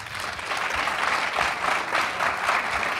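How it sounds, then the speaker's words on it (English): A studio audience at a political talk show breaks into sustained, even applause, a dense wash of many hands clapping at once with no voices over it. "Applaud."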